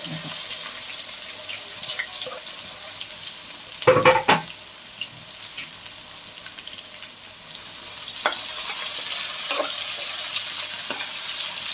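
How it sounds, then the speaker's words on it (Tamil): Garlic and tempering spices frying in hot groundnut oil and ghee for chicken kuzhambu, a steady close sizzle with a loud burst as ingredients drop in, followed by a few light clinks. "எண்ணெய் காஞ்சிடுச்சு, தாளிக்க வேண்டியதை போட்டுட்டு ஃபஸ்ட்டு பூண்டை போட்டுக்குவோம்."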